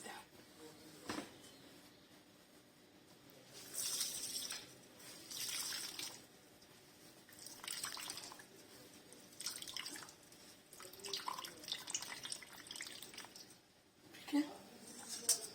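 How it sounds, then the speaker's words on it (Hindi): Salted grated radish being squeezed in a cloth to press out its water for paratha, giving several faint splashing and dripping bursts into a bowl beneath steady kitchen background noise. "आप कपड़े में डाल के इसका हम पानी निकाल लेते हैं।"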